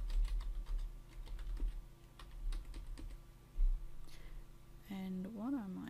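Keys clatter on a computer keyboard in quick irregular bursts as text is typed into an online ebook layout, close and fairly loud, with a short stretch of someone speaking near the end.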